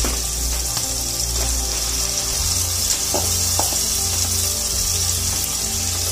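Marinated vegetables are stirred into a pan of spiced masala for veg dum biryani, with a steady, loud sizzle and frying hiss running throughout and occasional soft stirring scrapes up close.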